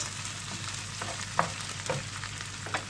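Onions and minced meat sizzling in a pan, a steady close hiss with a few faint stirring scrapes throughout.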